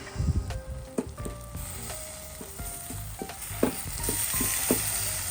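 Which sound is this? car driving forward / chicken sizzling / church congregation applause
chicken sizzling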